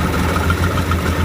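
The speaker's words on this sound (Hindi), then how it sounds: "जैसे ही एसी कंप्रेसर चालू होगा, इंजन थोड़ी देर में रेस हो जाएगा।" A car engine idles with a steady low rumble and slight pulsing vibration as the air-conditioning compressor kicks in during a home wiring and fuel repair, brief and close with no speech.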